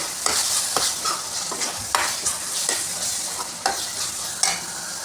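Masala with kasuri methi sizzles and crackles in hot oil for a mushroom curry, with a spoon scraping and stirring the pan in repeated strokes, close and steady without any talking.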